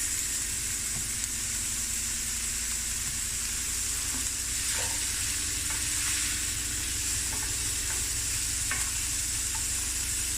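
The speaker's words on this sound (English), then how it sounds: "Fry this until a golden color" Food sizzles steadily in a pan over medium heat for pumpkin bredie, a Cape Malay dish, with occasional soft scrapes and knocks of stirring and no talking.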